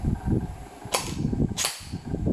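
Two sharp snapping shots from an LCT AK74U airsoft electric gun fired on semi-auto, spaced about half a second apart over a low background hum.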